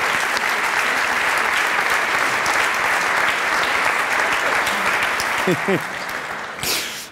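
Talk show studio audience applauds Olympic athletes with a long, full wash of clapping, a few voices briefly rising over it before the applause tapers off.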